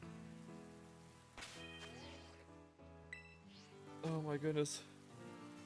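Steady rain patters in a Pokemon video game, a soft constant wash beneath game music chimes and a person talking excitedly.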